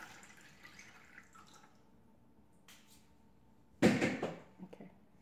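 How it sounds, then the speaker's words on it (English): A single burst of water splashes from a wrung mop into a bucket, brief and close, after a quiet stretch with faint background noise. "Once you dump the water, wring it and then dump the water."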